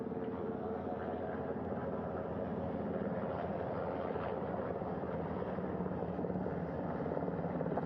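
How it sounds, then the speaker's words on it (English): Continuous thudding rotor beat and engine whine of a helicopter hovering close by over a ship's flight deck in the Pacific, steady and fairly loud throughout. "The first helicopter coming in."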